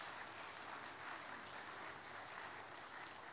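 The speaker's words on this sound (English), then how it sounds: "a round of applause is appropriate" A church congregation applauds a couple marking 71 years of marriage, a steady, fairly faint wash of many hands clapping that holds for the whole stretch with no talk over it.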